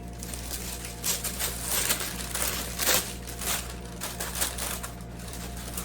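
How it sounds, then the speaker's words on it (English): Parchment paper crinkles and rustles while being pressed into a soap mold, a continuous near crackling with a few louder crunches, no speech. "I line my mold with the"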